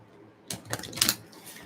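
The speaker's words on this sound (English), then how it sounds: "I'm going to shuffle the energy cards as well" Oversized tarot energy cards being shuffled by hand, a short burst of riffling and slapping card noise after a brief quiet start, close and moderately loud.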